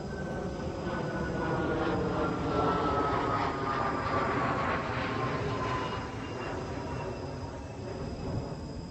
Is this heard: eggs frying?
no